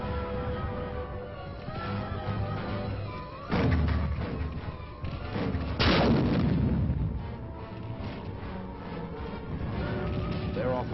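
Heavy aerial bombardment in the Korean War, heard as two loud, booming blasts a few seconds apart over steady narration and background music, with lighter rumbling around them.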